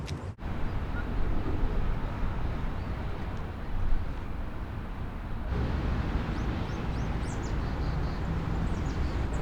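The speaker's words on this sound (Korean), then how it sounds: "좀 시끄러운데 도시 소음을 한번 잠깐 수음을 해볼게요" Constant dense roar of nearby city traffic fills a small urban park in Anyang, South Korea, with a few faint bird chirps poking through near the end.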